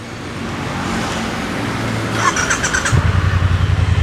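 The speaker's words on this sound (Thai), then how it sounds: "เดี๋ยวเราฟังเสียงท่อเดิมคันนี้กัน" Traffic noise gives way to a 2017 Triumph Bonneville T120 motorcycle idling nearby with a steady, even putter from its stock exhaust.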